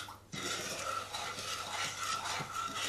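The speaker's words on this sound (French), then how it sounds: "Je vais mélanger un petit peu" A spoon scrapes and swirls semolina with orange blossom water around a pot, a soft, steady stirring rub heard up close with no voices.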